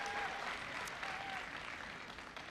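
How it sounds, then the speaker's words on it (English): Audience at a Central High event clapping steadily for a full stretch, a dense, even wash of applause with a faint murmur of the crowd underneath. "Please give them a big round of applause."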